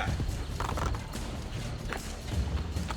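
Hooves clip-clop in a quick, continuous rhythm over a low rumbling background, with a brief horse whinny in the mix, in the video game Assassin's Creed Brotherhood.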